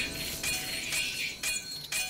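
Bright clinking pickup chimes from coins being collected in a video game, several quick metallic blips repeating in a steady run, fairly loud and without talk.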